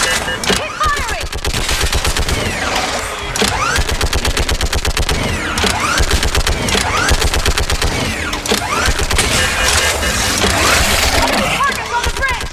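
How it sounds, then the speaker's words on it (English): Rapid automatic gunfire rattles in long, near-continuous bursts in the video game Mass Effect 3 Legendary Edition, loud and close, with shouted voices and battle noise mixed in. "Keep firing!"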